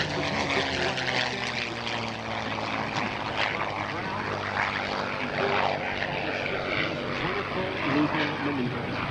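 A P-51C Mustang propeller warbird flies a maneuver at the 2024 Rochester, New York airshow, its engine drone steady and continuous beneath a commentator's amplified voice.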